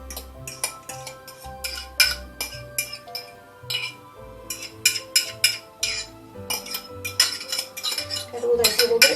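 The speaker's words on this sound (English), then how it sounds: "So what I'm going to do now is to put that into my bowl of oats." Metal utensil scraping and clinking against a dish as mashed puree is spooned into a bowl of oats, a run of close, irregular clinks and scrapes with no talk.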